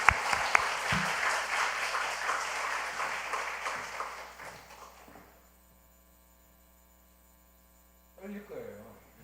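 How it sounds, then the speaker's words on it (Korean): A congregation applauds in a church during a new-member graduation and baptism service, with dense clapping for about five seconds that fades into a low electrical hum before a voice begins speaking. "이걸 박수로 격려하겠습니다."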